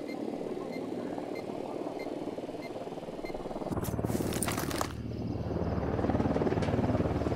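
A helicopter in the Ghost Recon Wildlands video game keeps up a continuous rotor and engine drone, with a short, sharp burst of loud broadband noise partway through before the steady hum returns.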